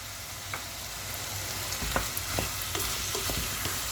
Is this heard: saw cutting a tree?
no